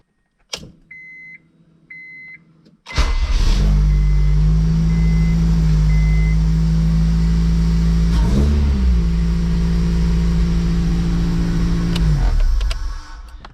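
An Acura RSX engine cranks briefly after a few soft beeps, catches and settles into a loud steady idle with a short rev partway through, close up and without talk.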